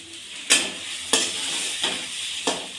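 Paneer curry masala frying in hot oil in a pan, a steady close sizzle with four sharp stirring scrapes spaced at regular intervals, no voices.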